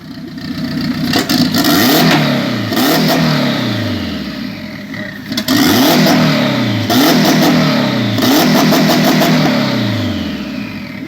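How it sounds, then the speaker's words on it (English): A K-swapped Honda car engine revving hard, repeated rising and falling bursts of loud close engine roar with brief drops toward idle between pulls, and no talking. "Get her rev there."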